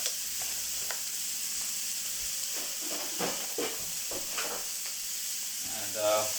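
Meat frying in a pan for cottage pie gives a steady sizzling hiss throughout, with occasional stirring scrapes and a soft voice talking faintly underneath.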